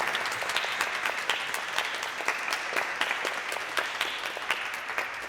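An audience at a concert keeps clapping for the pianist, a continuous crowd of hands with individual claps popping out. It sounds fairly soft and slightly distant, with no voices over it.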